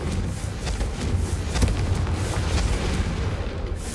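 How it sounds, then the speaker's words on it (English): Fireball spell explosions from Confringo in Hogwarts Legacy, a sustained rumbling blast with repeated booming bursts and crackle, loud and continuous throughout. "I do like having more fireballs"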